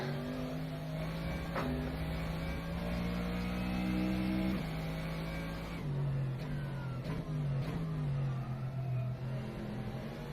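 Mercedes AMG GT3 race car engine lapping Silverstone in rFactor 2 in wet conditions, a loud sustained drone that climbs and drops steadily through the gears, with brief shift breaks and no talking.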